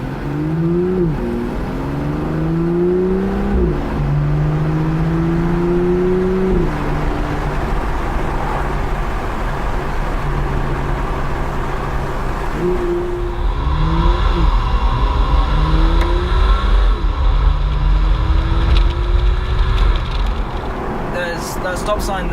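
BMW M2 engine and exhaust during hard on-road acceleration, with rising and falling revs through repeated gear changes, a loud steady drone filling the cabin, and a fresh surge of acceleration partway through.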